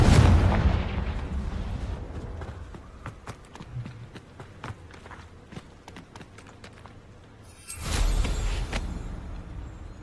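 A Confringo blasting spell in Hogwarts Legacy erupts with a heavy explosive burst at the start, followed by scattered crackling impacts and footsteps, then a second rumbling blast near the end.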